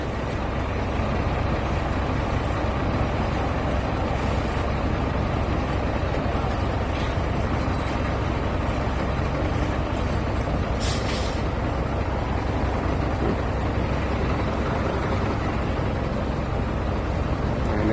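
Heavy trucks crowd a narrow road in Güneri neighbourhood of Kozan, with a steady loud engine rumble throughout and a brief hiss of an air brake partway through.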